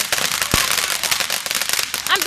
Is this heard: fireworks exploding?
yes